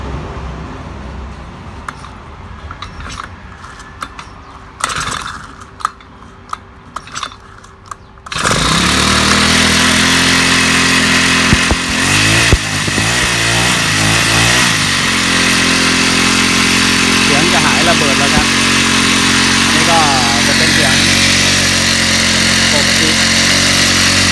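A Honda GX31 small four-stroke engine starts and runs loudly and steadily at a buzzing idle for most of the clip, after a quieter stretch of clicking and handling, with its note shifting slightly as the throttle varies.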